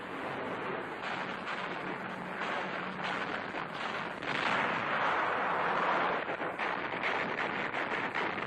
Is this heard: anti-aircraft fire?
yes